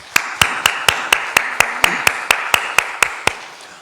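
A church congregation claps in thanks during a Sunday worship service. The clapping is crisp and evenly timed, like unison claps, about four per second, steady and fairly close, with no talking.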